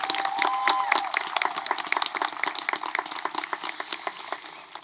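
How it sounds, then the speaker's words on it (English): Graduation audience at a high school Class of 2021 ceremony applauds, with individual claps distinctly audible in an uneven, moderately loud patter from a mid-sized crowd that gradually thins out. "One more round of applause for Miss Andrea."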